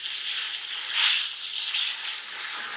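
Curry leaves and whole coriander seeds fry in hot oil for rice pulao, giving a steady close sizzle with a brief louder surge partway through and no voices.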